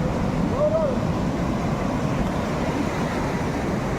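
Wind and sea waves roll on Puri's Golden Beach, a loud, steady wash of surf and gusting wind buffeting the microphone, with a short rising whistle-like tone near the start.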